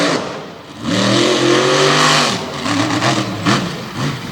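Gary Bauer's steel-body Nightmare Express race vehicle, driven by Kyle Kunkel at an outlaw event in Canfield, Ohio, roars loudly with a rising, revving engine pitch, building up then holding strong with shifting throttle.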